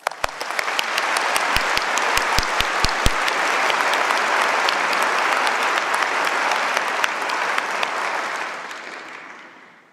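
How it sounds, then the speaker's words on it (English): Convocation audience at a MacEwan graduation ceremony giving the graduates a long, loud round of applause, a few sharp early claps swelling into sustained dense clapping that fades out near the end. "let's have a round of applause for our graduates."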